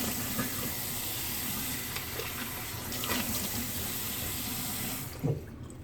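Water runs steadily from a bathroom tap into a sink to rinse off after a straight-razor shave, a continuous splashing hiss that stops abruptly near the end with a small clunk.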